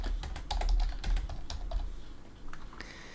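Close, fairly loud keystrokes on a computer keyboard as a message is typed, tapping in quick irregular bursts with brief pauses, no voices.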